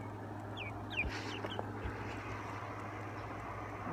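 A house chicken, a hen kept indoors apart from her flock, gives a few faint, soft clucks and short chirps over a steady low hum of room noise, with no voices.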